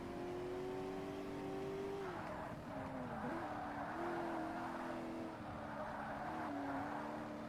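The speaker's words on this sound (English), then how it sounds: "Ferrari's catching up behind." A Ferrari race car engine in a Forza Motorsport classic sports car event drones steadily at high revs, its pitch dipping and climbing again through gear shifts. The engine sounds fairly faint and distant.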